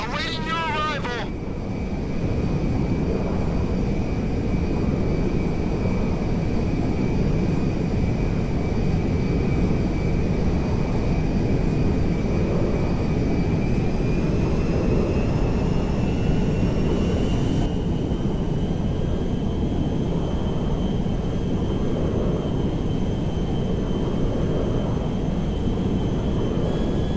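Jet aircraft engine in the video game GTA 5, a steady loud roar with a high whine that holds and rises slightly in pitch, continuous throughout.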